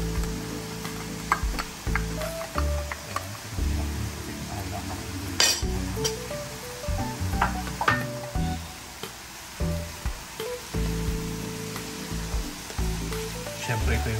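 Sliced sweet ham going into a pan of sauce, a steady sizzle with scattered clinks of utensil against pan and a few sharp knocks, running close and moderately loud throughout.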